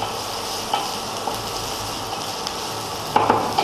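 Sliced onion, garlic and green chili stir-fry in a pan, a steady sizzle broken by scraping stirs and a few knocks of a spoon against the pan near the end.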